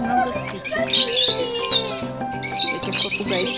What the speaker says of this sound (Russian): Видишь птичек маленьких? Чик-чирик, они говорят.